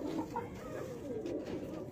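A multicoloured high-flying pigeon coos in soft low murmurs, steady and fairly close, with no talking over it.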